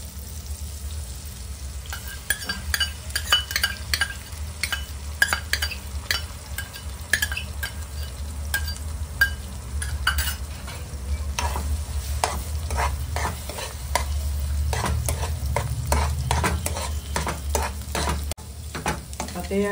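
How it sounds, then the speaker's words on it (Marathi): Beaten eggs and capsicum stirred in a hot pan for an egg capsicum chilly, a steady sizzle under repeated scraping and clicking of a spatula against the pan, close and continuous. "आता मिरची शिजलेली आहे, आपण त्यात अंडी घालूया।"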